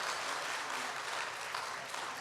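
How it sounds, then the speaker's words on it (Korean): Congregation applause during an evening revival service at a church gathering, a dense, steady wash of many hands clapping with no voices, moderately loud and continuous throughout. "자, 우리 박수로 하겠습니다. 박수하겠습니다."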